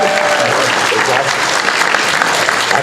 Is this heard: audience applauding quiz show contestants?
yes